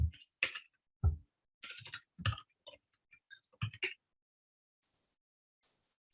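Computer keyboard typing while entering data into a database: several quick bursts of close, crisp key clicks separated by short pauses, then near silence with faint ticks at the end.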